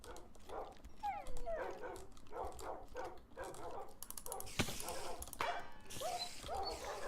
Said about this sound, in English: Good dogs, follow me.